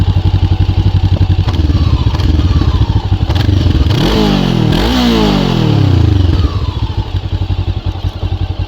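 An RKS M 502 N motorcycle engine revs up hard several times, the pitch sweeping up and falling back, loud and close over a steady idle rumble.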